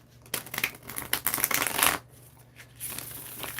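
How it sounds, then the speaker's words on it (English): Tarot cards are shuffled in quick riffling bursts, a crisp fluttering rush that stops and then starts again more softly. "We're going to shuffle again, guys."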